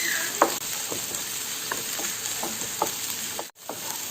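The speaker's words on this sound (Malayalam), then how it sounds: "ഇഞ്ചിയുടെയും വെളുത്തുള്ളിയുടെ ഒക്കെ ഒരു പച്ചമണം പോകുന്നത് വരെ ഒന്ന് വഴറ്റിയെടുക്കണം" Ginger, garlic and curry leaves sauté in a hot pan, giving a steady close sizzle broken by soft scraping taps of a spatula being stirred at irregular intervals.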